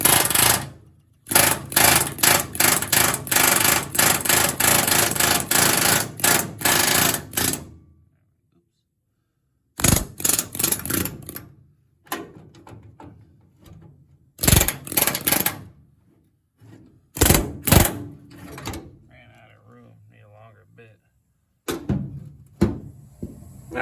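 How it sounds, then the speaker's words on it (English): An air chisel with a flat bit pops spot welds on the trunk floor of a 1968 Pontiac Firebird: loud, rapid hammering bursts, some long and some brief, broken by silent pauses. "use a really flat chisel bit and keep popping these spot welds here"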